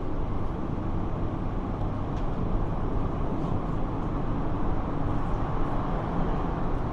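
Inside a Crossrail Elizabeth line passenger train running through a tunnel, a dense, constant low roar and rumble that holds at one level throughout.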